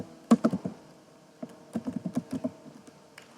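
Keys clack on a computer keyboard as a web address is typed, a quick burst of close taps followed by a second run of lighter, evenly spaced keystrokes, with no talking.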